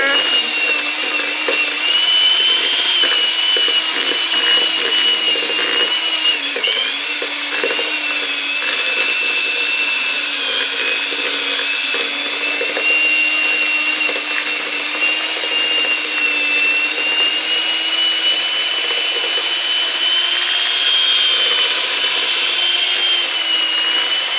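An electric mixer creams butter for cake frosting, giving a steady, loud, high motor whine that runs unbroken throughout, with small shifts in pitch as the beaters work.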